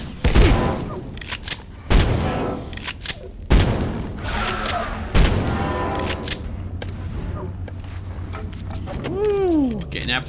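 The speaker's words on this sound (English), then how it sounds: "Getting out before the grenade hit" A grenade explodes in the video game Abiotic Factor amid several heavy booming blasts and gunfire-like bursts, with game sounds and voices chattering over the clamour.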